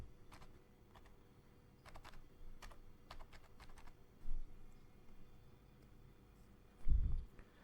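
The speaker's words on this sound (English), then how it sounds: "Now let's type WordPress reset over here in the search." Quiet keystrokes on a computer keyboard, typing a search into a WordPress admin page, come in short bursts with brief pauses and end in a couple of heavier thumps.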